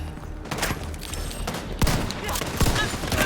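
Shotgun gunfire in a multiplayer video game battle, loud and dense, with several sharp blasts standing out over a continuous clatter of other shooting.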